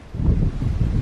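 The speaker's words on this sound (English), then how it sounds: "By the way, it's really windy" Strong wind blows into the microphone outdoors near a field, a low, rumbling, buffeting roar that surges and eases for about a second with no voices.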